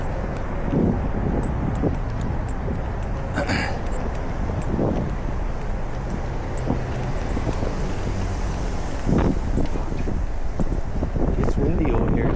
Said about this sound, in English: It's windy over here, dude.